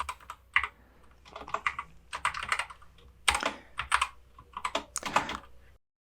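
Steady typing on a computer keyboard while entering fields into a database, with close, crisp keystrokes in irregular bursts and short pauses, and no talk.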